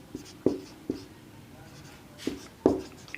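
Pen or marker strokes while notes are written during a biology lesson, a handful of sharp, separated taps and scratches close by over a quiet background.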